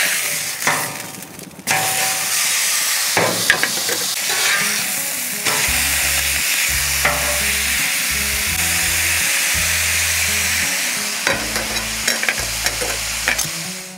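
Bacon sizzles and fries steadily on a new Blackstone flat-top griddle during its first cook, a loud continuous hiss with occasional scraping and clattering of a spatula against the steel surface.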